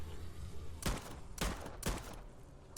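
Three sharp pistol shots from a non-upgraded weapon in a round-8 zombies video game, spaced about half a second apart, loud and punchy over a quiet game backdrop, with no talking.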